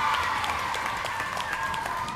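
An audience at a children's quiz game applauds with fast, dense clapping that stays fairly even and moderately loud throughout.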